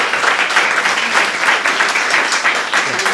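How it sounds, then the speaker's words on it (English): An audience applauds a panel on measuring girls' empowerment, a dense, steady burst of clapping that fills the whole short stretch. "Round of applause."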